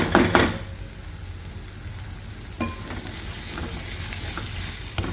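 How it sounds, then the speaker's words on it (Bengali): Pointed gourd peel paste fries in a pan with turmeric, giving a close, soft sizzle under a few scraping stirs and occasional knocks of the spatula. "আর একটু ভাজা ভাজা করবো।"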